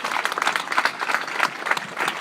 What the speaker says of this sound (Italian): Un grande applauso a Fausto e a tutto il suo staff.